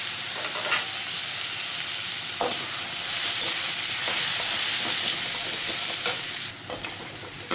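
Onion, cumin and whole spices fry in hot oil in a home kitchen, giving a steady, close hiss with stirring scrapes and clicks throughout; the sizzle thins briefly near the end, with no talking.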